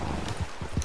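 A horse's hooves clip-clop in Red Dead Redemption 2 Online, several soft, evenly spaced thuds that sound moderately near under a low background hum.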